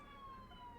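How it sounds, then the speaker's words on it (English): Police sirens wail in the video game Dead Ringer, a faint, steady tonal whine held across the whole short moment. "Police sirens?"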